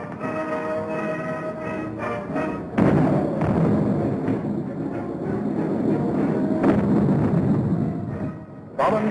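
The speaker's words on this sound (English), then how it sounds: "Both times they had come up against a wall of automatic weapons, mortar and artillery fire." Mortar and artillery fire rumbles through a WWII battle at San Pietro in a steady, dense low roar. Heavier thuds and booms break through at irregular moments, and no voices are heard.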